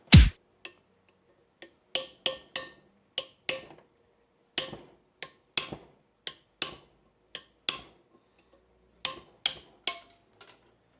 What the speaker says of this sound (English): This little hammer should be fine.